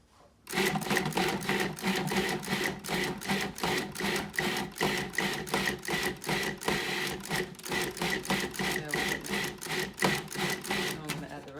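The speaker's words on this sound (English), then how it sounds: "So we'll blend this up, and I'll add a little more because we want all these wild greens in there." A countertop blender chops wild greens for raw onion bread with a steady, loud mechanical whir. Rapid regular pulses run through it from start to finish, and a voice talks over the machine at times.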